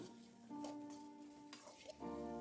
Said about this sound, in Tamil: மீல் மேக்கரை சேர்த்தி நல்லா வறுத்து எடுத்துக்கணும்